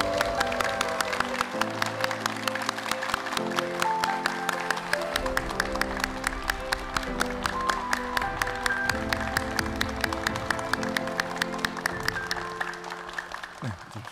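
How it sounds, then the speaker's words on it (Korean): A town hall audience welcoming the county governor to the stage claps in a steady rhythm under loud upbeat walk-on music, with the evenly spaced claps running through the whole passage. "먼저 오늘의 주인공인 구복규 군수를 여러분의 박수로 무대로 모시도록 하겠습니다"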